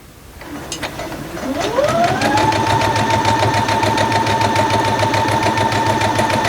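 A sewing machine stitching a quilt block for a pressed-flowers quilt: the motor spins up from a stop and settles into a steady, loud, close rapid needle rhythm with whirring drive hum, running alone without talk.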